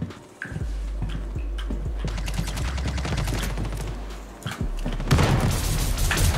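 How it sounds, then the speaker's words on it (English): Laser gun firing in a futuristic shooter game mode set in the Star Citizen universe, heard as rapid bursts of sharp, buzzing repeated shots with booming impacts, loud and close, broken by a brief lull. "Laser gun."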